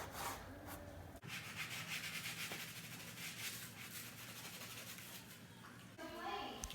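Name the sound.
scrubbing grout residue off stone veneer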